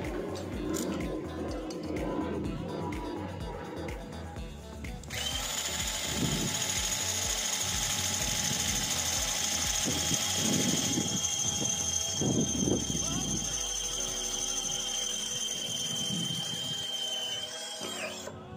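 A Worksite CD331 20V cordless drill with a 5.5 mm Stanley bit bores into lubricated steel, a steady high whine holding for several seconds and then easing, with mechanical ratcheting and clatter up close.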